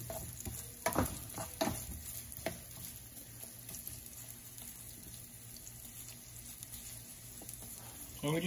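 Seafood gumbo ingredients frying in a pan give a soft, steady sizzle with a few sharp clatters near the start and a brief louder burst at the end.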